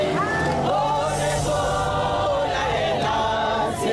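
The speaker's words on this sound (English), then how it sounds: "Outside the courtroom, women banded together and voiced their anger in song. Here they are chanting" Women protesting outside a courtroom chant together in song, a loud, dense crowd of voices sustained throughout with no pauses.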